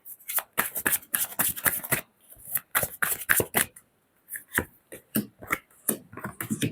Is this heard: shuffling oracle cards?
yes